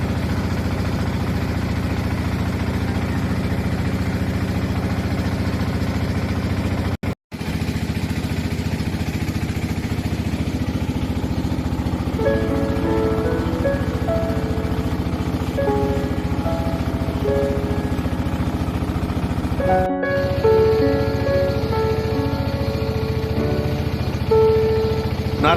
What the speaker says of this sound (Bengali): আমরা এই মুহূর্তে বোট রাইড করে চলে যাচ্ছি মন্দির ঘাটের দিকে